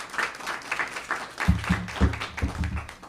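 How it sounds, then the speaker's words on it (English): Audience applause at a university honors research symposium welcoming a presenter, a scattered patter of claps with some tapping, joined partway through by louder, closer individual claps in a steady rhythm. "So with a round of applause, please let's welcome Hunter Jordan."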